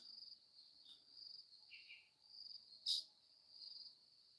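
Bugs chirping in early morning ambience: a steady, high, continuous insect trill, faint and distant, with a few brief brighter chirps rising above it.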